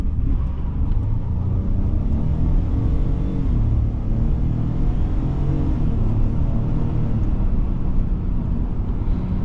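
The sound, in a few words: Ford F-150 EcoBoost pickup accelerating with traction control off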